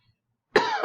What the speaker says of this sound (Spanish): me dio el ataque de tos